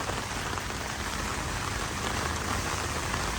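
Steady rain falls in Korea, hissing continuously on surfaces as a loud, even wash of drops with no talk.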